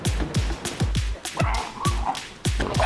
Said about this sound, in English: she's gonna bark on them for sure